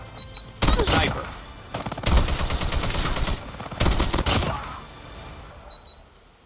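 Gunfire in the mobile shooter Call of Duty Mobile, with loud bursts of rapid shots in two or three clusters separated by short gaps, ending in quieter scattered shots.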